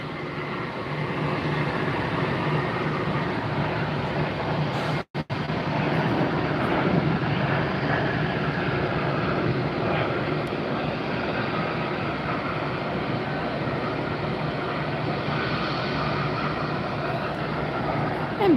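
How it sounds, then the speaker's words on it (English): A Breeze Airways airliner climbs away on takeoff at Tampa airport, a steady, fairly loud jet rumble sustained for the whole stretch with a brief dropout midway. "And Breeze Airways up in the air."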